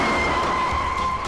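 A car pulls away on a city street, a steady engine drone with a faint high whine and tire noise holding at constant loudness for about a second and a half, with no talk over it.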